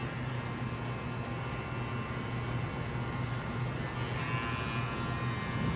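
Electric hair clippers run steadily while cutting a low fade at a barbershop, a close, continuous buzzing hum with no pauses or talk.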